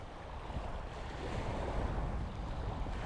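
Sea waves along the Isle of Wight coast wash in a soft, continuous surge, faint and distant, mixed with some wind buffeting and no voices.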